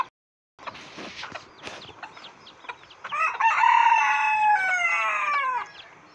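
A hen and her five chicks cluck and chatter close by, with a burst of higher, drawn-out calls rising over the clucking toward the end.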